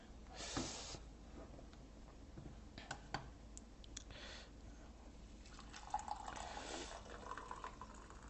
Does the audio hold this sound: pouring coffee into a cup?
yes